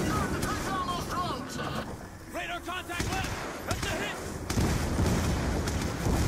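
Gunfire in the Black Ops 2 campaign: repeated shots and booming blasts mixed with game effects and wind. A player talks over the action throughout.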